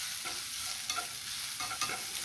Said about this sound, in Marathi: आता गॅस थोडा वाढवू, त्याला मिक्स करून घेऊ व्यवस्थित.